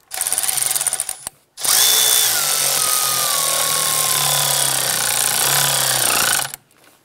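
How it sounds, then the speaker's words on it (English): A power tool whirs close and loud in two bursts, a short one and then a longer sustained run, while a throttle body clamp is snugged down on a 2008-2013 Nissan Rogue. "Now we can look at the clamp in the back, we'll focus on that, and we'll snug that down."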